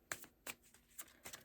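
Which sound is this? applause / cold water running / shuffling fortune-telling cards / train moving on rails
shuffling fortune-telling cards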